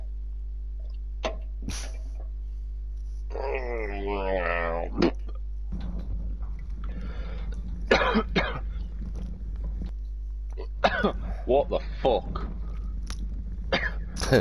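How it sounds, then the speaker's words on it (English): A man's recurring cough while playing World War Z, several short harsh coughs and throat-clearing bursts scattered among his chatter, close to the mic. "Just this weird cough that just keeps creeping back up from the bottom of my belly."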